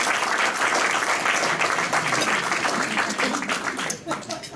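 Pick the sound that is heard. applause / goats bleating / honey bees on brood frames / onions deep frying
applause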